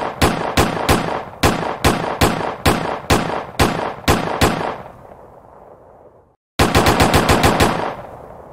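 Video game gunfire rings out in rapid bursts of loud, evenly spaced shots. One long string fades into a decaying echo, and after a brief silence a second quick burst follows.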